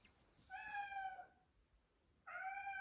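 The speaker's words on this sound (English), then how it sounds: "Stop meowing. You're being rude." Two drawn-out cat meows, clear and fairly close, separated by a short quiet gap in an otherwise still room.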